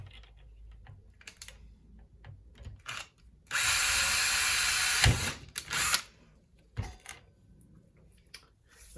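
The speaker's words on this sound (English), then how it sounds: "that's those plywood I'm screwing into, so it's not really mandatory to do pre-drilling" A power drill drives a screw into plywood in a garage while an emergency bulkhead light is mounted. One close whirring burst of about a second and a half stands out between quieter clicks and handling knocks.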